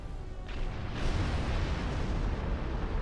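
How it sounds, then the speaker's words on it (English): A starship explodes in the space combat video game Star Trek Online, a loud, broad rumbling blast that swells after a brief lead-in and keeps roaring steadily to the end. "Will his explosion kill me?"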